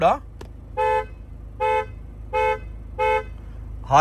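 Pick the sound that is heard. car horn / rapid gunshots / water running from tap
car horn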